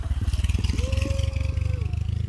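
Motorcycle passing by outdoors near a hot spring resort, a throbbing engine pulse with a rising whine in the middle, steady and fairly close, with people talking nearby.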